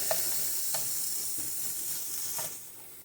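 Onions and mixed vegetables fry in a pan for a pasta sauce, giving a steady, soft sizzle with a few light clicks from stirring and no talking.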